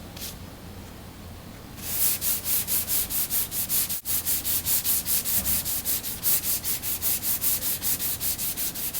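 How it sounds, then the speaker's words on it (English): Hand sanding auto body finishing glaze up close, cross sanding to feather an edge: after a brief pause, rapid rhythmic back-and-forth scraping strokes repeat steadily, each a gritty rasp. "Cross sanding, just trying to get it to feather in good."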